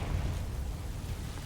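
A spell explosion from a wizarding video game, a deep rumbling boom with a continuous low roar that stays loud and dense for the whole moment, without any voice.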